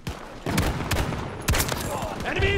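Desert Eagle pistol shots in a video game ring out in several sharp, loud bursts spaced unevenly over a couple of seconds, with a brief voice under the gunfire.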